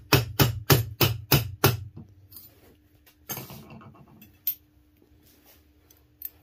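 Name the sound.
hammering a spoon ring on a mandrel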